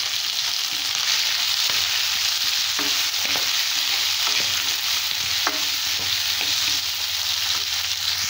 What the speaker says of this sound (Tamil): கோவக்காய் 1 நிமிஷம் வதக்கியாச்சு.